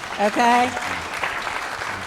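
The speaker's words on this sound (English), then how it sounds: "let's give them one more round of applause" A brief spoken word opens a roadshow gathering for Senate candidates, followed by a softer spread of audience applause continuing underneath to the end.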